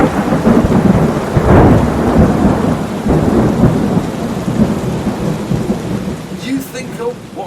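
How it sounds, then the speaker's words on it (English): Thunderstorm in an audiobook, with heavy rain and long rolling booms of thunder filling the whole stretch, a sharp crack near the middle and a brighter burst of rain toward the end. "Another massive thunderclap exploded overhead."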